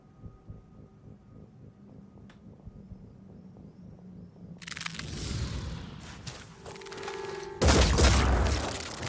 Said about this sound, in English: Okay, explosions coming in.